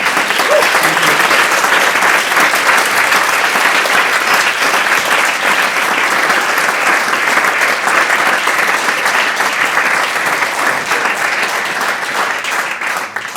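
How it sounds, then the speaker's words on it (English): The crowd at the FameLab Basel 2023 science-communication semi-final breaks into loud, sustained applause for the candidates, a thick wall of clapping that holds strong for over thirteen seconds before easing slightly. "give, of course, our last candidate, but also all the candidates that spoke today, a huge applause"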